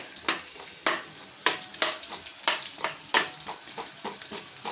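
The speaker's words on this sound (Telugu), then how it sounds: "ఇది లైట్ బ్రౌన్ కలర్ వచ్చేంత వరకు వేయించుకోండి" Curry leaves frying in oil for a broad bean and tomato curry, giving a steady crackling sizzle broken by sharp periodic scraping stir strokes, close and fairly loud, with no talk.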